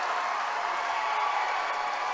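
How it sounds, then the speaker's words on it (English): A crowd at a high school basketball game at Mansfield cheers and applauds in a steady, dense roar late in the third quarter, with no clear voices standing out. "Listen to this crowd."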